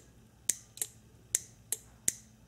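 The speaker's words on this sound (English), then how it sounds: "That's a very, very good sign if you hear a clicking noise." A relay from a 2006 Acura clicks sharply six times at uneven intervals during a bench test, each tick crisp and close against a quiet hum.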